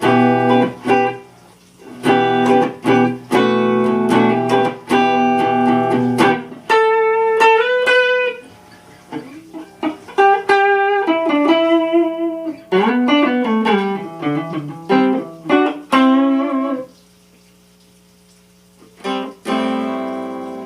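Grote hollow body electric guitar with its tone control turned down for a mellow, rolled-off sound, playing chords and single-note runs, with pauses, close and moderately loud.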